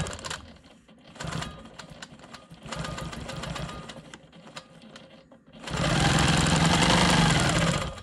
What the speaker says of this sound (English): I'm gonna quilt some lines parallel to that first one I did.